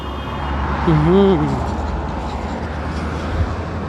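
Traffic rumbles steadily past a road junction at night in Accra, Ghana, with engines and tyre noise filling the scene while someone talks briefly over it.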